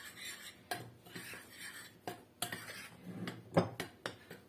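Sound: mixing quiche dough ingredients with sugar, salt and baking powder

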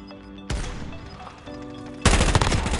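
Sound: gunfire in Warzone Rebirth Island, a video game

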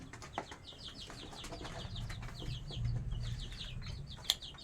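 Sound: sonali chickens clucking

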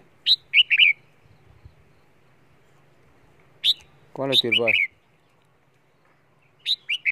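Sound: songbirds chirping

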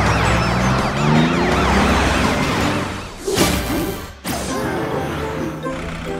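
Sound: police truck siren, video game

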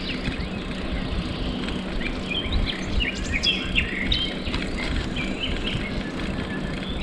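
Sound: nightingale singing

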